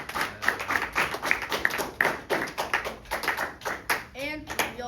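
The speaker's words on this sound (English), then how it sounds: "Sure, you guys can applaud" Audience applause at a presentation, a dense run of hand claps steady for several seconds, with a voice and some cheering mixed in near the end.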